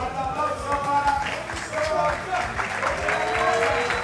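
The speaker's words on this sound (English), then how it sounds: "You can hear the crowd getting ready to hype" Tournament crowd at a Dragon Ball FighterZ winners final clapping and cheering steadily in the background while a commentator talks over it.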